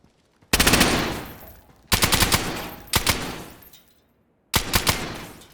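Four separate bursts of automatic gunfire ring out in the survival video game DayZ on the Sakhal map, each a loud, rapid string of shots that echoes away before the next, with quiet gaps between.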